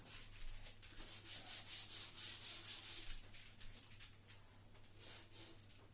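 Board eraser rubbing out writing during a physics lesson on an a.c. generator, a steady run of quick back-and-forth scrubbing strokes for several seconds, close and fairly soft, with no talking.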